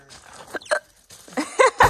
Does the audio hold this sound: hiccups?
yes